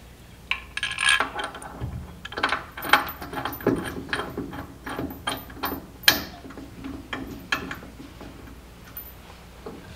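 A small metal grease zerk fitting is screwed into the suspension of a 1972 Chevrolet C10 with a ratchet wrench, making rapid close clicking and ticking in short bursts with brief pauses.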